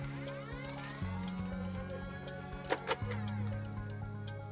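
A Modulus foam dart blaster, fitted with fresh batteries, whirs as its flywheels spin up in two steady revs, and sharp firing snaps sound close together near the end.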